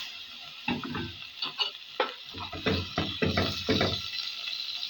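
Minced meat fries in oil in a pot for a lentil and meat stew, with a hiss beneath bursts of rhythmic stirring and scraping that come in uneven clusters.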